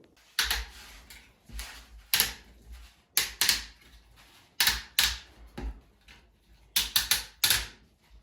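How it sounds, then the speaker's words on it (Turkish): Lid being pried off a can of countertop paint, a series of sharp metallic clicks and snaps in clusters, close and loud with quiet gaps between. "Şimdi e, boyamızı açalım."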